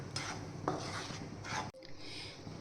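Wheat flour dry-roasting in a pan over medium-low flame, a spatula scraping and rubbing across the metal in a few soft strokes, close and quiet, with no voices.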